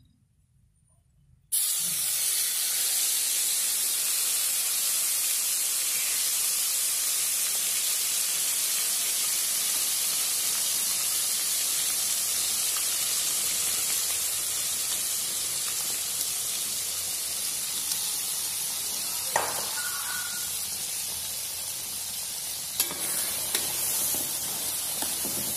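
Spice paste for Mie Aceh is sautéed in a pan and sets off a loud, steady hiss. The sizzle runs for more than twenty seconds with a couple of faint clinks.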